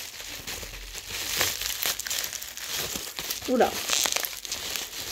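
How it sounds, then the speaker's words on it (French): Packaging crinkles and rustles as hands wrestle open a tightly wrapped parcel of beauty products. The crackling runs unevenly through the clip at close range, with a brief voice exclamation partway through. "j'ai du mal à l'ouvrir, ils sont bien emballés, comme vous voyez. Je me bats avec mon colis."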